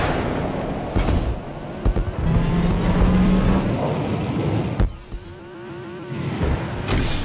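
Rocket-powered cars in the racing video game Turbo Golf Racing roar and rev steadily at close range, with whooshes, thumps and a sharp boost burst partway through; no one talks.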